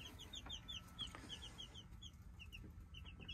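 Chickens and young chicks in a backyard brooder setup cluck and peep in a steady stream of short, high calls, fairly faint, with no talk over them.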